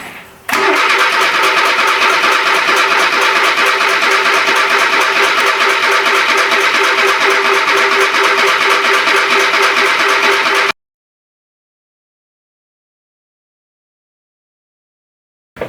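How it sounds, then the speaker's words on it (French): A car engine, freshly swapped for a Renault C1J unit, cranks and catches at once, then runs steadily and loudly for about ten seconds before cutting off into silence. "On va essayer de voir pour le faire redémarrer."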